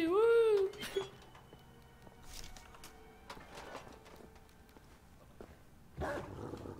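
In the video game Wolfenstein The Old Blood, a dog gives a loud opening whine-like growl and then a few short barks and rumbles at moderate distance. Quieter game ambience fills the gaps, and a sharp burst comes near the end.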